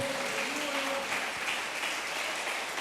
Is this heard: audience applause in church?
yes